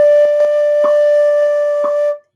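A flute holds a single steady D, clear and close, with a few soft tongued rearticulations along the way before the tone cuts off after about two seconds.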